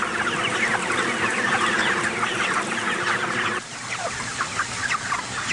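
Farm-raised chickens cluck and chatter as a busy flock, with overlapping calls that hold steady and then drop a little in level partway through.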